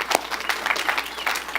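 An audience clapping in a hall at a campus event, a steady burst of dense applause at moderate loudness with no talk over it.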